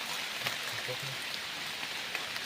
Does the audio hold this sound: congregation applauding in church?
no